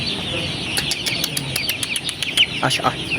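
Broiler chickens on a poultry farm give busy chirps and clucks with a burst of rapid wing flapping, close and fairly loud.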